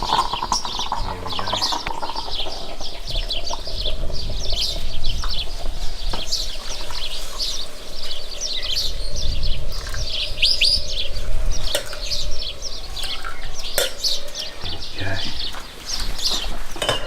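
Sparrows chirp steadily outside while waiting to be fed, a dense busy chatter of many small birds close by, running throughout with someone talking over it.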